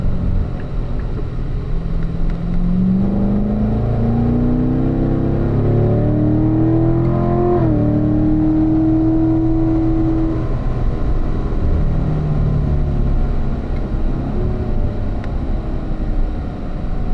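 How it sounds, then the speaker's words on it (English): A race car engine accelerates out of a turn on track, its pitch rising and falling through shifts under constant wind and road roar, steady and loud without speech. "Steady throttle to maintain, then accelerate off."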